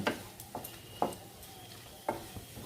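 A spoon stirs pointed gourd mash with tomato and lemon juice in a pan over raised gas, giving about five separate scraping knocks at uneven intervals over a faint low sizzle, with no voices.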